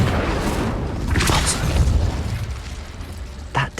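A Confringo blasting spell explodes in a Hogwarts video game, a loud booming burst that rolls on as a long rumbling roar, ending with a short sharp pop.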